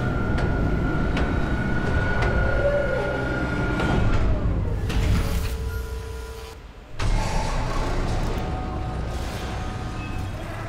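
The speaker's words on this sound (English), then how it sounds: "Replacing damaged tram car." A replacement tram car rolling along rails in the video game Dead Space remake, a steady mechanical rumble with a rising and falling whine, a brief drop to near silence, then the rumble resuming.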